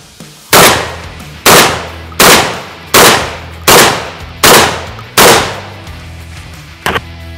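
A Beretta 1301 Tactical gas-operated shotgun fires seven loud, sharp blasts on an outdoor range, spaced evenly and slowly, each followed by a brief ringing decay, with a fainter knock after the last shot.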